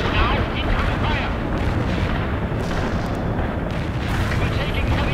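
Heavy artillery fire and explosions roar in a World in Conflict battle, a dense continuous barrage of booms and blasts filling the scene at loud, steady intensity, with radio voices mixed in.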